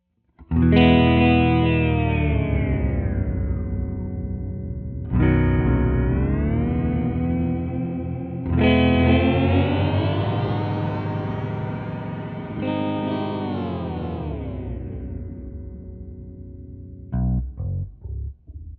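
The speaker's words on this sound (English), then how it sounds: "Now we can listen to synth." A Red Panda guitar pedal in synth mode turns guitar notes into a loud, buzzy synth tone: four long sustained notes that swell and bend in pitch, then a few short choppy stabs at the end, with no talking.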